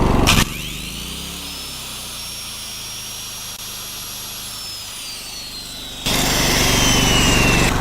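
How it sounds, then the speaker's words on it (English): An old 10-amp circular saw spins up on a Predator 4550 watt inverter generator, its high whine rising, holding steady for several seconds, then winding down as a louder broadband roar takes over. "Got the old circular saw, 10 amps."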